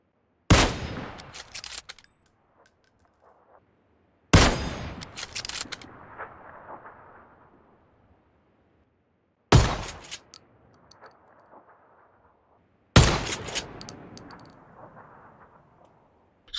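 Sniper or shotgun shots in the mobile shooter Game for Peace, four single loud blasts spaced several seconds apart, each followed by a long echoing tail that fades out.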